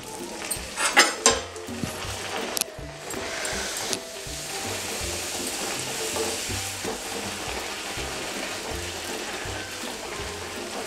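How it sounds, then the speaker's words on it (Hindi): Puris deep-frying in hot oil, with a steady bubbling sizzle and a few clinks of a utensil against the pan near the start, all over a low background music track. "पूरियों को हमें हॉट ऑयल में तलना है।"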